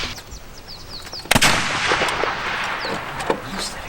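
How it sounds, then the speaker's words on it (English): Muskets fire from a fort at a mountain man gathering, with one sharp report standing out over a busy outdoor background of chirping birds and crowd noise, heard from a moderate distance. "So right now we're watching the fort shoot, and they're shooting their muskets out of"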